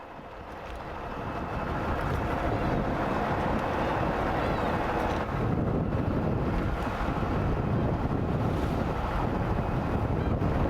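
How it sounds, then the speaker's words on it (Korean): Loud, rough sea waves crash and churn continuously off Baengnyeong Island, with heavy wind buffeting the microphone throughout. "갑자기 파도가 치네."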